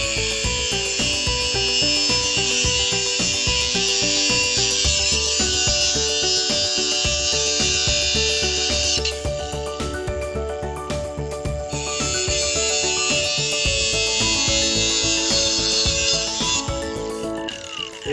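A cut-off wheel grinds through metal conduit for a garden bed build, a loud continuous high-pitched whine with bright harmonics that briefly drops as the wheel lifts off around the midpoint, then resumes, alone without talk.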